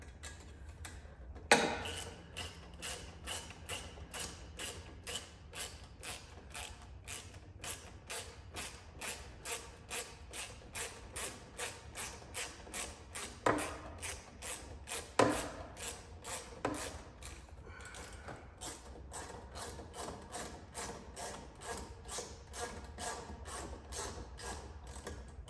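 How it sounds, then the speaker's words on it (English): A ratchet clicks in quick steady strokes while tightening an exhaust clamp on a 2009 Yamaha Raptor 700R during an HMF full exhaust install, with a few louder knocks and thumps mixed in. "We'll get the clamp tightened here."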